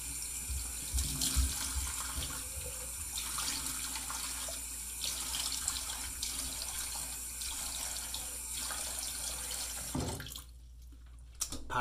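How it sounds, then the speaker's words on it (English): Cold water running steadily from a tap into a sink, a close, continuous hiss and splash that cuts off near the end. "Nice cold water now."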